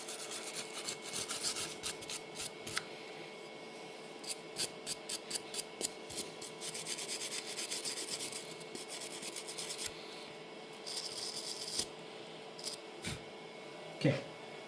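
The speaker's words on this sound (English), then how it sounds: "I knew I brought a wire brush over here, kind of clean off some of this gunk." A wire brush scrubs gunk off a Deutz D19 tractor in short, rasping strokes, some quick and repeated, others longer, close and fairly quiet with a brief knock near the end.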